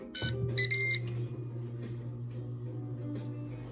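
A Ninja Foodi XL grill and griddle gives a short series of electronic beeps signalling it has finished preheating, followed by a quiet, steady hum.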